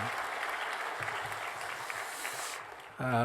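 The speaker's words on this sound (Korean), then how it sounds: "큰 박수 해주시면 좋겠습니다" A church congregation applauds during a Sunday service after members give their testimonies, a steady wash of clapping that fades near the end as a voice briefly begins speaking.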